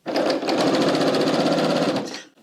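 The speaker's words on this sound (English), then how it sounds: "Okay, I'm going to serge all the way around my pocket." A serger overlocks around the edge of a bias-cut fabric pocket in a steady, fast mechanical whir that runs close and loud for about two seconds before stopping.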